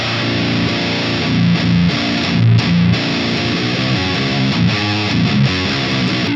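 A loud, thick, heavily distorted electric guitar chugs through dense low riffs, sustained and gritty with a muddy, saturated tone.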